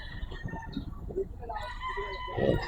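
A big Sweater gamefowl rooster crows at a poultry market, a drawn-out call rising near the end amid background chatter and people talking.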